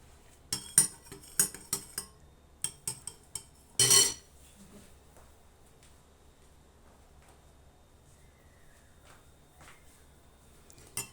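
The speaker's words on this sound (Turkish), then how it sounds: "Telimle bir karıştırayım." A wire whisk stirs a spoonful of flour into a sauce for crispy rose börek, making a quick series of close metallic clinks against the bowl for about four seconds before fading to near silence.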